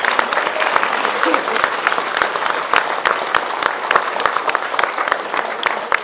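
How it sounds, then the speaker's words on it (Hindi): An audience in a hall applauds steadily throughout, dense overlapping claps at close range that stay loud and even the whole time. "जरा तालियां बजाएं अपने लिए सब मिलके।"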